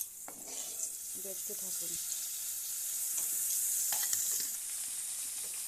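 Chopped onion and tomato fry in a pan with a steady, close sizzle and hiss throughout, broken by a few clinks and stirring scrapes, while a voice speaks briefly near the start.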